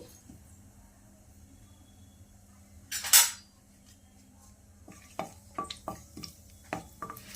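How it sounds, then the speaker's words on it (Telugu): Bay leaf, cardamom and cinnamon drop into a pan with a brief sharp sizzle, followed by a quiet series of light taps and clicks from stirring in a calm kitchen. "ఒక బిర్యానీ ఆకు, ఒక ఇలాచి, 2 యాలక్కాయలు, 1 ఇంచు దాల్చిన చెక్క అవి వేసుకుని ఫ్రై చేసుకోవాలండి."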